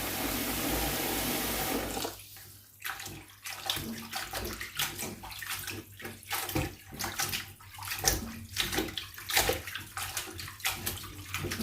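Water runs from a tap and splashes while blanched Chinese kale is rinsed by hand in a sink, starting with a steady pour that turns into irregular sloshing and churning, close by and without talk.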